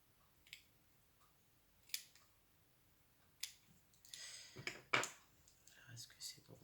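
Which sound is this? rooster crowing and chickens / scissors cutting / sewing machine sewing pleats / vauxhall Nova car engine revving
scissors cutting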